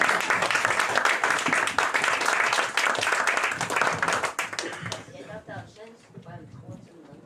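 Audience applause after a poem at an evening reading: brisk clapping from a small crowd that fades out after about five seconds, leaving a voice speaking alone.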